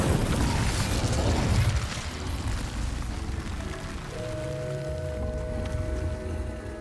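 An Incendio fire spell in Hogwarts Legacy erupts in a loud crackling whoosh that fades over a couple of seconds into a softer rushing tail, with faint tonal chimes ringing out near the end.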